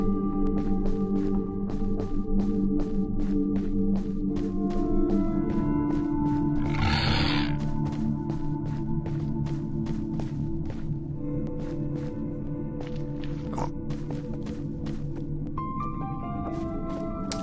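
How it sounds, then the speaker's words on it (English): Minecraft Crimson Forest music track: a dark, sparse game score with sustained low tones and scattered piano notes, punctuated by rhythmic percussive hits, with a brief noisy swell midway, steady and continuous with no voices. "the Crimson Forest has its own specific track, and it sounds a bit like this"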